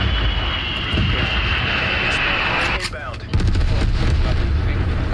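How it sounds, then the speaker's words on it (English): A hostile spy plane in Black Ops Cold War roars steadily overhead, a loud continuous aircraft engine drone mixed with distant gunfire and artillery thuds, with a brief dip in the middle and people talking over it. "Spy plane contact."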